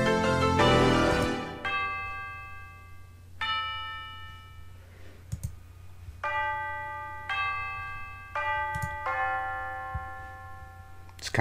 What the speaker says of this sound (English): I added like a tubular bell on top of that.